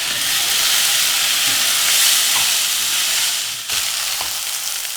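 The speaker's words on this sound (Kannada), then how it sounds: "ಸ್ವಲ್ಪ 1 ನಿಮಿಷ ಈ ಥರ ತುಪ್ಪದಲ್ಲೇ ಹುರ್ಕೊಳ್ಳೋಣ." Rice frying in hot ghee, sizzling steadily and loud throughout while a utensil stirs it with occasional scraping clicks, no voices.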